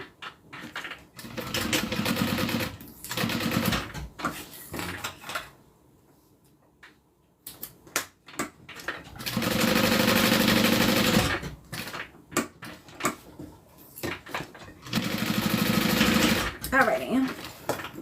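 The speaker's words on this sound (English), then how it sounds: "I'm going to stitch down across the bottom and then up" A sewing machine stitches a small mini wallet in several loud, steady bursts separated by pauses, with a person talking quietly between runs.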